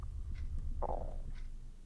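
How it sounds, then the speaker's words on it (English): A video game stomach growl, a single short gurgling rumble that rises and fades over a low murmur, close and moderately quiet. "Stomach growls."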